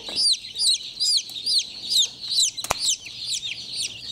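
A hen clucks in short, repeated, rising calls while helping a chick hatch, about eight close, clear clucks in steady rhythm with a single sharp knock partway through.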